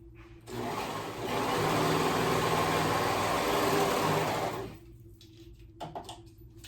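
A sewing machine stitches a ruffle onto a pair of pants in one continuous run of rapid needle chatter for about four seconds, then stops, leaving quiet room tone and a few faint handling sounds.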